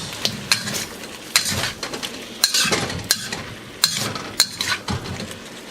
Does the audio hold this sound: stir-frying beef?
yes